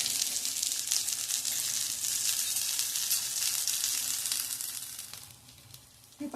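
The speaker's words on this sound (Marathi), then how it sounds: "आणि अशी एक एक टिक्की ठेवून शॅलो फ्राय करून घ्यायची." Potato patties (tikki) shallow frying in oil in a pan give a steady, close, crackling sizzle that runs throughout and softens toward the end.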